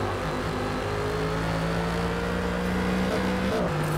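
AMG GT3 race car in a racing video game pulling into the pits, a steady close engine drone holding a low tone with a brief pitch shift near the end.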